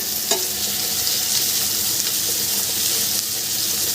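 Chopped garlic and onion fry together in a pan for a home-style Bengali egg biryani, producing a loud, even sizzle throughout with a faint stirring knock, without any talking.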